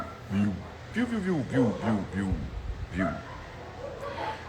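Two dogs in Tahiti call back and forth from different directions, giving a run of short yelping, whining barks at mid distance, with people talking over and between them.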